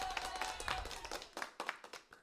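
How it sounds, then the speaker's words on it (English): Several people clap in a short burst of applause for a speaker on a TEDx stage, uneven hand claps at moderate distance that thin out and trail off toward the end. "I need to do a clap on that"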